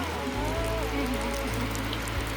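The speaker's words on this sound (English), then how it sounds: "it's now absolutely pouring on our just cut hay." Heavy rain pours down on freshly cut hay in a field, a dense, constant wash of drops, close and loud, with a low rumble underneath and no talk.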